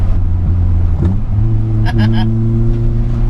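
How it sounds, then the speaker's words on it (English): Non-turbo Toyota Starlet engine droning loudly from inside the car, with brief throttle blips and pitch shifts breaking the steady hum. "I like that you can blip down and up in this car"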